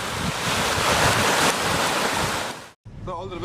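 Huge North Sea waves crash in a roaring, wind-blasted surge that stays loud and dense for nearly three seconds. It then cuts abruptly to silence, followed by a short, quieter bit of different sound.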